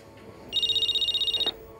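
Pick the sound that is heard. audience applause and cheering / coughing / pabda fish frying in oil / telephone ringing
telephone ringing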